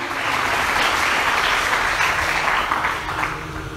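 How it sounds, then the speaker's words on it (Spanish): A church congregation at a Spanish-language service applauds, a dense, continuous wash of many clapping hands that holds steady and loud throughout, with no clear talk over it. "Alguien aplauda al papá de papás, Jesucristo."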